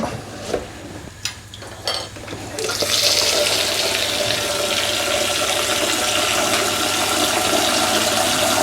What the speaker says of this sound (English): Fill it back up with water.